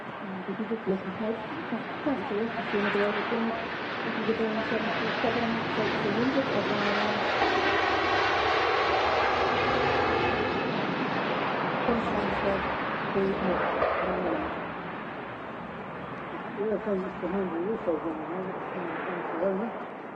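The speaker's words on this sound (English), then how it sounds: "The Airbus wide body making a rumble." A Virgin Atlantic Airbus A330 with Rolls-Royce engines takes off from Manchester Airport, a loud rumbling roar building and fading over about twenty seconds while someone talks over it.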